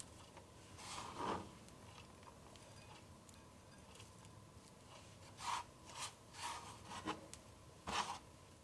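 A horseradish root is grated by hand in several short, dry, raspy bursts, faint and close against a quiet room, with no one speaking.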